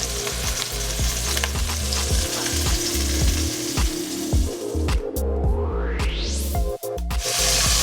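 An antelope shank sears in a hot pan with a loud, steady sizzle and crackle that runs throughout, carrying a faint rhythmic pulsing and a brief rising whoosh near the end.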